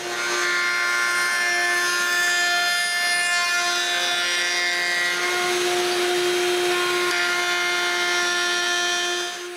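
A router cuts a rabbet inside wooden frames, giving a loud, steady high-pitched whine with harmonic tones and a rougher grinding edge as the bit moves through the wood, close by and with no talk.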